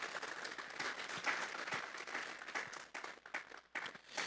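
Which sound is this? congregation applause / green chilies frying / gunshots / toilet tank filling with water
congregation applause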